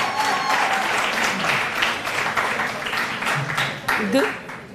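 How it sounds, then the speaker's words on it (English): Warm audience applause at a university ICDL graduation ceremony, steady and full throughout, with voices and brief talk mixed in underneath. "So if we can give her the most warm round of applause that we can muster here as she comes to give us that."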